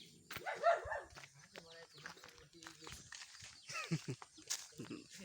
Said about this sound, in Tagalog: Dito tayo lipat, gawa ng matapang aso nila Lula.